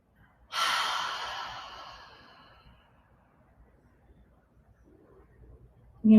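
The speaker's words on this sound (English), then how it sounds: "let's take a soft breath in" A single long, breathy exhale during a balance exercise in a home practice session, starting strong and fading gently over about two seconds, followed by quiet room tone.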